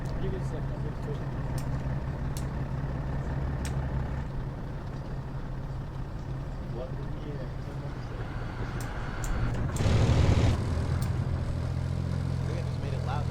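Vehicle engine in a video game, a steady low drone with a brief louder surge near the end, heard under people talking over voice chat.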